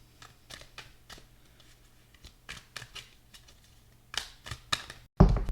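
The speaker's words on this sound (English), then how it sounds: "So Mystic Mondays, let's pull 3 cards here" Tarot cards shuffled and drawn by hand, a run of soft, papery flicks and riffles in irregular bursts, close and fairly quiet, ending in a louder sharp rustle as a card is pulled.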